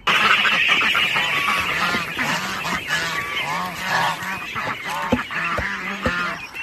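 A flock of farm ducks, kept alongside geese, quacks and honks loudly while being fed, with overlapping nasal calls in irregular bursts close by and no talking.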